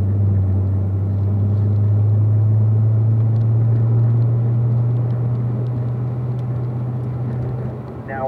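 Car accelerating up a hill on a rainy race track, heard from inside as a loud, steady low engine drone that holds its pitch, fading slightly at the end.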